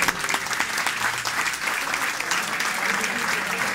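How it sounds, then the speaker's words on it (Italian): Applause from a crowd at a blog party in a Naples café, a dense, steady wash of many hands clapping at once that keeps its level throughout. "Prima prendo l'applauso che è più bello."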